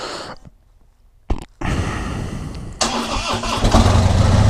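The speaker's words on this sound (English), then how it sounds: "Let's see if I even remember how to make this thing work." Motorcycle engine starting after a long break: a quiet lead-in, a short burst of starter noise, then the engine catches and settles into a loud, rough idle that grows louder toward the end.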